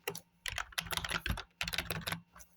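Typing on a computer keyboard, quick clusters of close key clicks in a few bursts with short pauses between them, alone and fairly quiet.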